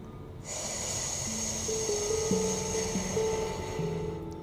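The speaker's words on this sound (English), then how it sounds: "Breathing in." A long, steady inhalation during a breathwork exercise, a close, airy rush of breath sustained for several seconds over a soft background drone of music.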